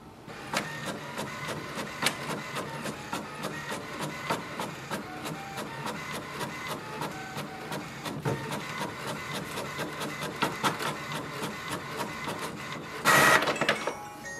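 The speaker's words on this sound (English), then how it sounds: "We can print the welcome sheet." An HP Envy 6020e inkjet printer runs steadily, its print head shuttling back and forth with rapid mechanical clicks and whirs, ending in a brief louder feed sound.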